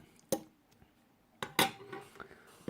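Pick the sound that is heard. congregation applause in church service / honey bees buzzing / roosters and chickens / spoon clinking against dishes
spoon clinking against dishes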